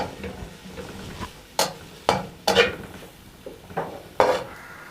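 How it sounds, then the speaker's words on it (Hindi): Shredded boiled chicken being sautéed in a pan, with a spatula scraping and clanking against the metal in several sharp, separate strokes over a faint background sizzle. "एक पाव के करीब बॉइल्ड श्रेडेड चिकन लिया है मैंने, इसको डालेंगे। हल्का सा सौते करेंगे।"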